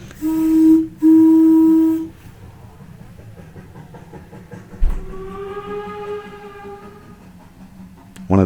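A preserved 1946 Gulf Mobile and Ohio Railroad train whistle at Discovery Park of America's Heritage Park in Union City, Tennessee, gives two loud, sustained blasts, then a third softer, wavering blast follows after a thump, with quiet outdoor ambience between.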